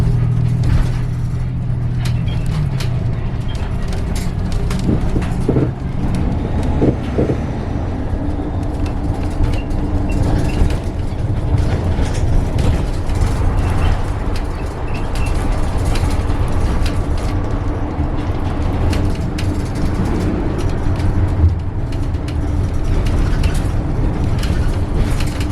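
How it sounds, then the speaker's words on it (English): A seasonal shuttle bus serving the American River area pulls up nearby, its engine a steady low rumble with road and traffic noise continuing throughout, no voices present. "the Confluence bus, which is currently waiting for me right now"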